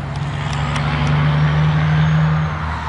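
A truck rumbles past outdoors with a steady, loud low engine drone that holds for a few seconds and then begins to fade, with no voices over it.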